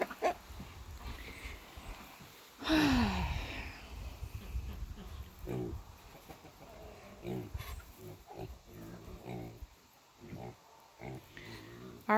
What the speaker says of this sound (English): Hey, pig, pig.